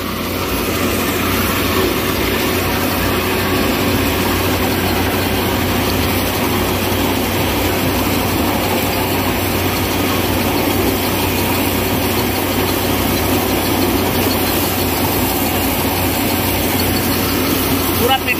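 A 55 HP Kubota 5501 tractor engine runs under load with a Jagatjeet Star reaper attached, a steady, loud, continuous diesel drone holding level throughout with no pauses.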